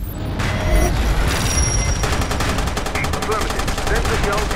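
Rapid automatic gunfire and bursts of shots in the online military shooter MAG, loud and sustained with a steady rattling rhythm that dominates throughout.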